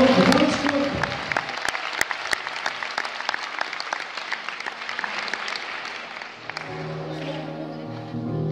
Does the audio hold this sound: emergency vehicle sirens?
no